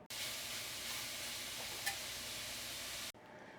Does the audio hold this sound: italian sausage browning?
yes